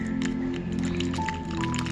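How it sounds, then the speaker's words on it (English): A mixed party drink is poured into a hollowed-out watermelon shell, giving a steady, wet, splashing pour for a couple of seconds with faint background music. "You just have to pour this in this shell of watermelon which he has already curved out"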